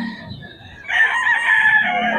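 Gamefowl rooster crowing loudly and close by, one long drawn-out crow rising after a brief stretch of soft clucking.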